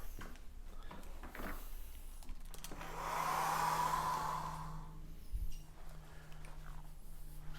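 Hair dryer blowing to dry wet paint on a surf painting of rocks, a steady whooshing roar that rises for a few seconds then eases back to a low motor hum, close by with no talking.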